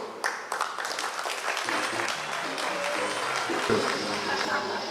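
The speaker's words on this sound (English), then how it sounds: "Round of applause, please, again for our mayor" An audience claps steadily in a city hall auditorium at a heritage trust logo launch. The dense, sustained applause fills the whole stretch.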